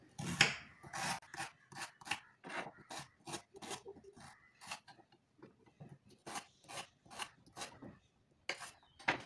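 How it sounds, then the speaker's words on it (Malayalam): Arrowroot is chopped with a knife on a cutting board, a close, fairly quiet run of rhythmic rasping cuts, about two per second, each a short scraping chop. "കട്ടിംഗ് ബോർഡിനകത്ത് അരിയുന്നതാണ് നല്ലതെന്ന് എനിക്ക് തോന്നുന്നു"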